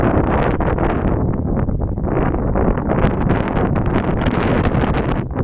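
Steady, blustery wind buffeting the microphone, a loud continuous roar with gusty surges and no voices.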